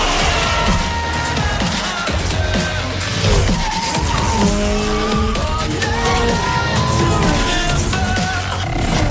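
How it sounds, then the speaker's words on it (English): Tires squeal in long, sliding screeches as a car drifts in Need for Speed Shift 2: Unleashed, over a revving race-car engine, with game music and effects layered throughout. "You're gonna throw your car into a slide and try to maintain it."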